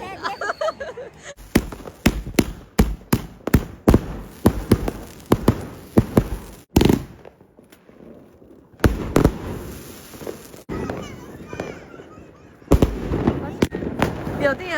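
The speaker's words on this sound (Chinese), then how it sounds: "来看烟花" Fireworks and firecrackers burst in rapid, irregular volleys of loud, close cracks during a Lantern Festival night celebration in China, with brief lulls between bursts and voices talking in the background.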